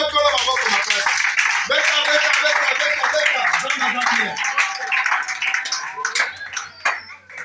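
A church congregation in Oyo claps for God during a Sunday service, steady rhythmic hand claps filling the room close by, with voices mixed in and a few sharper claps toward the end.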